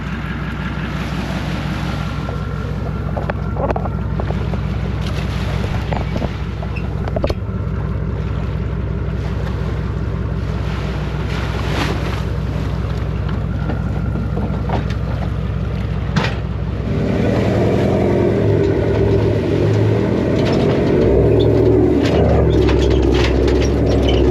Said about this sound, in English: That was a pretty successful beach launch